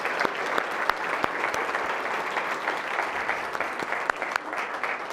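A church congregation claps together in steady, dense applause throughout, loud and close, with no voices breaking through.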